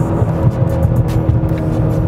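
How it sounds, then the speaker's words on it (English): A loud 2014 Volkswagen GTI Mk6 engine roars steadily up close, its low rumble building slightly as the car accelerates into a turn. "I'm gonna go into the turn and I'm gonna give it some gas"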